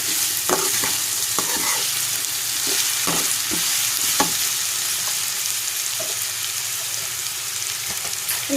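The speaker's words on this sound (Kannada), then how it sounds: "ಮಾವಿನಕಾಯಿ ಸಿಪ್ಪೆ ತೆಗೆದು ತುರಿದು ಇಟ್ಕೊಂಡಿದ್ದೀನಿ. ಅದು ಸ್ವಲ್ಪ ರೋಸ್ಟ್ ಮಾಡ್ಕೋಬೇಕು." Grated raw mango roasts in a pan while being stirred. A continuous sizzle sounds close by, with repeated scraping and tapping stir strokes in an irregular rhythm and no voices.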